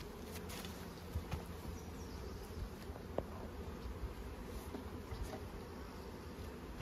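Honeybees hum steadily at an opened hive during feeding of a weak colony, a low even drone alone with a few faint clicks and knocks.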